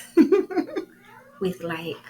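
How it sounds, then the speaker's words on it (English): A house cat meows twice, short and fairly close, in a quiet indoor room, with brief talk near the end. "that's the cat."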